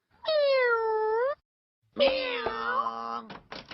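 A cat meows twice, the first a long drawn-out cry, the second longer and wavering, with a light knock or thunk near the end.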